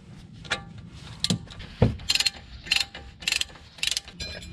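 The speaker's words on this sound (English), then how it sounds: "And we'll use our ratchet to tighten this up." A ratchet tightens a bolt on the brakes of a BMW 3 Series E90, giving close, sharp bursts of rapid clicking separated by short pauses, with a few metallic knocks in between.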